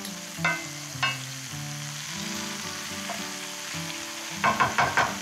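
Leeks frying in a pan for a clam and leek sauce, a steady close sizzle with a few sharper crackling bursts and stirring scrapes, no talking.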